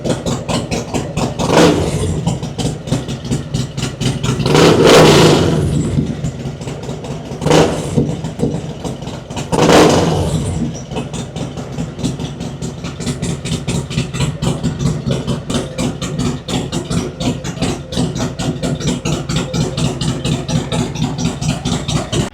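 Loud and near, a Harley-Davidson M8 Road Glide engine blips through several sharp revs, about four throttle swells, then settles back into a steady, lumpy idle for the rest of the run, with no voices.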